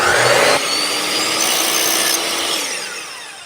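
A power saw cuts a 45-degree angle through wood, a loud close whine that bites in sharply at first, then settles into a steady grinding cut before trailing off.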